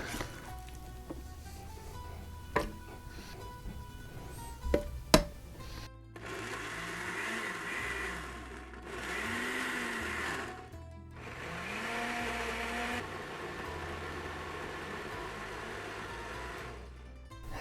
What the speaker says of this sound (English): So let's get it into the blender.